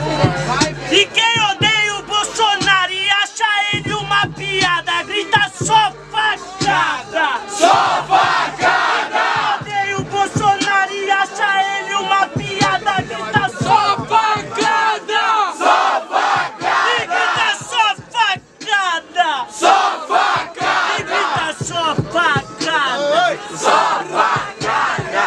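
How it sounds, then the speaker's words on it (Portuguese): Battle rap crowd in Brazil cheering and shouting in loud, sustained waves of voices and yells, with chanting bursts throughout and a brief dip before the noise swells again. "Barulho pro Black Panther"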